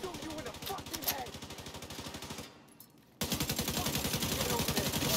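Rapid automatic gunfire in The Division 2 rattles in steady repeating bursts, cuts out briefly to near silence, then resumes louder and continuous to the end.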